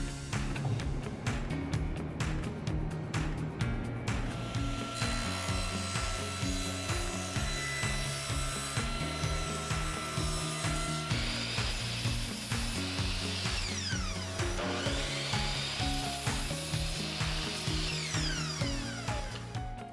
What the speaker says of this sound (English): it's time to go to the router table and do the tenon